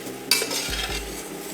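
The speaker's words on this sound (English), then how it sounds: "So we'll just stir that around" A spoon scrapes and stirs chicken pasta sauce with milk in a pan, a short clinking stroke followed by soft swirling and a low bubbling sizzle close by.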